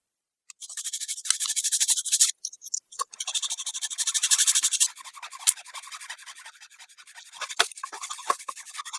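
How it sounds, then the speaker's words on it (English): A hand file rasps along the edge of a prototyping circuit board in repeated bursts of close, scratchy strokes, some quick and rhythmic, some slower and softer, with brief pauses between runs. "I didn't expect to be spending all this time playing with files."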